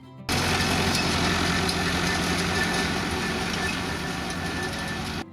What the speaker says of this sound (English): Massey Ferguson 165 has a gasoline or diesel version.